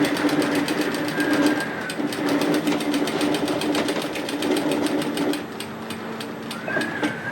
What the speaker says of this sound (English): Then just take your time and stitch through.